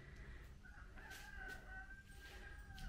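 A rooster crows at a neighbouring farm on Mallorca, one long drawn-out call heard from a distance, faint over a steady low background rumble.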